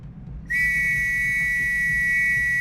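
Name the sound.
toy whistle blown, from video game The Last Express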